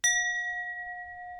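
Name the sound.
meditation bell being dinged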